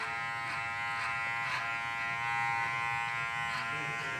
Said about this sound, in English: using the back side of the clipper